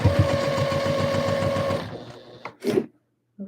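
A sewing machine stitching side seams runs in a rapid, steady mechanical whir for nearly two seconds, then stops, followed by a few brief handling clunks and rustles.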